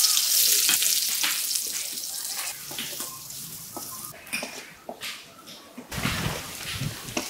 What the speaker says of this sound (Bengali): পেঁয়াজটা তেলে খয়রি কালার হয়েছে।